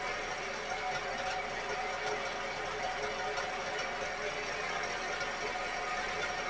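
An engine runs steadily on a dyno during a clean-out run with an OS 2090 or OS 2100 pipe set-up, a constant buzzing hum at moderate level with no clear speech.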